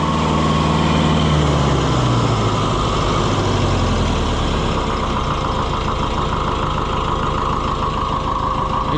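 Oliver 550 tractor diesel engine running steadily after an injection pump install, a loud, close, continuous rumble that settles from a falling rev into an even chugging idle.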